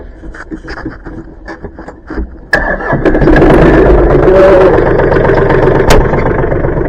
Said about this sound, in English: Tractor's going.